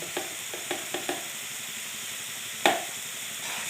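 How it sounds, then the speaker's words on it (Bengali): A spoon stirs a Bengali-style small fish curry masala of turmeric and salt in a pan, a few light scraping taps over a steady soft sizzle of frying, then one sharper clack partway through, all close and quiet. "এখন ভালো করে নাড়াচাড়া করে 2-3 মিনিটের মতো রান্না করব"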